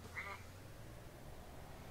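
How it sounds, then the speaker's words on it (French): A single short duck quack serving as the start signal in a racing video game, faint and brief near the start, followed by low background hum. "on attend le canard pour partir"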